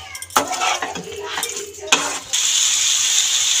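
Chicken being stirred with spice masala in a frying pan for bhuna chicken, with scraping spatula strokes and clinks against the pan over a steady sizzle that grows more even toward the end.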